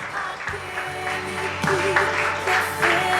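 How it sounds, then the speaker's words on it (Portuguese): A church congregation claps at moderate volume, a light, scattered patter of many hands that swells slightly toward the end, with faint voices beneath. "Dá um aplauso bem forte ao Rei da Glória."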